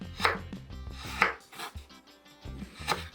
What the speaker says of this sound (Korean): 다음은 마늘 큰 거 하나를 슬라이스 해주시면 되겠습니다